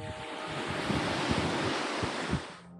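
Sea waves wash onto the beach at Playacar, a steady broad roar of surf with some wind buffeting the microphone, close and fairly loud, fading out at the end.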